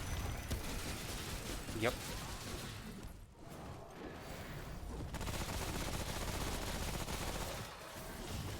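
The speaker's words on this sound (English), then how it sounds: "I hear a gun turret thing." A gun turret fires in Remnant: From the Ashes, a dense rattling stream of rapid shots running throughout under heavy combat noise, with a voice speaking briefly.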